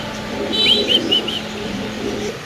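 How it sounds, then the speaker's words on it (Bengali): A few bright, short chirping calls from a pair of young Spanish pigeons over a steady low background hum, fairly close. "এখানে আছে এক একজোড়া স্প্যানিশ কবুতর বেবি"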